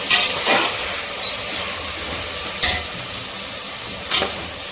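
Onions and tomatoes sauté in a pan for seeraga samba chicken biryani, giving a steady close hiss of frying broken by three sharp scraping stirs spaced a couple of seconds apart.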